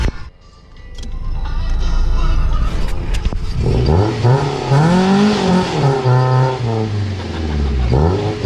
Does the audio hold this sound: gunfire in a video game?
no